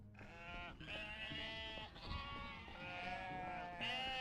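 Sheep bleat in the stealth game UnMetal: several wavering cries in close succession, loud and near, with no talking.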